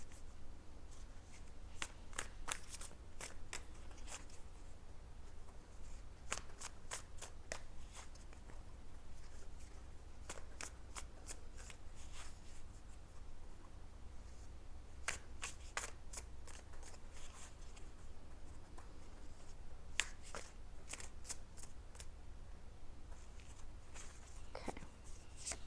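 Tarot cards being shuffled during a pick-a-card relationship reading, a steady run of crisp riffling bursts over a constant low hum, fairly quiet and close.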